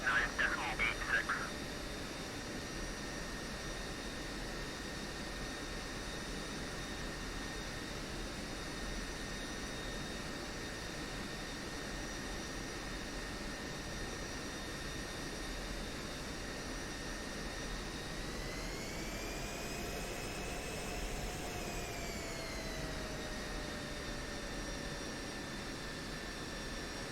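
A jet aircraft in a flight simulator game spools up for takeoff, a steady whining engine drone with layered tones that rises in pitch and then settles back, moderately quiet throughout.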